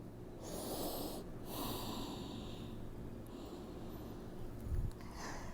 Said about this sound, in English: Take a deep breath here.